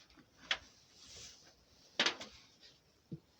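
A wooden beehive is opened for winter insulation, with a few sharp knocks and scraping thuds of lid and frames spread across a quiet background, brief and fairly close.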